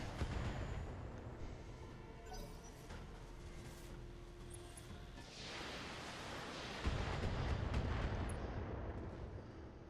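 Incoming weapon fire pounds a mech in BattleTech, a rumbling barrage of booming impacts and blasts that swells louder toward the end, dense and continuous without speech.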